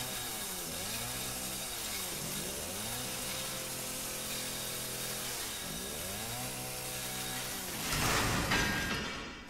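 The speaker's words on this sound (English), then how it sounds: "Now your chainsaw's fucked up." A chainsaw in the video game Resident Evil 7 revs and whines in repeated rising and falling cycles, loud and close, before building into a harsher, noisier burst near the end.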